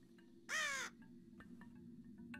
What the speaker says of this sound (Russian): Тут ворон.